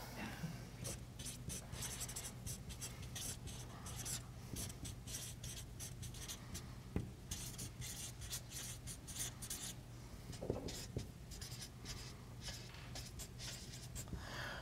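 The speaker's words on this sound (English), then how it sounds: "I'm writing it down." Pen or pencil scratching on paper during a meeting on IoT security, continuous quick strokes and scribbles up close over a faint room hum, with no talking.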